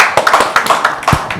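Audience clapping at a gathering in Kigali, heard as a short run of irregular, fairly loud hand claps close by, with no voices.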